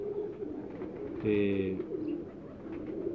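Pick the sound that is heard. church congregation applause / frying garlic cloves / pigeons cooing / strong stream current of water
pigeons cooing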